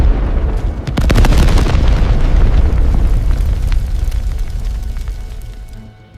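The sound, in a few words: explosion on a train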